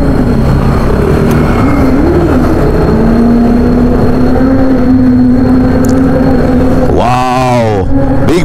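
A big motorcycle roars past on the road near Kaybiang Tunnel, its engine a loud sustained drone that swells and then sweeps away in a sharp pitch-bending pass near the end.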